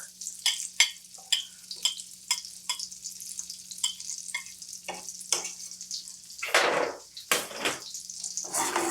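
Sliced garlic sizzles in melted butter and olive oil in a pan for steamed mussels, with soft crackles and spits growing into a louder stir and rush of sizzle.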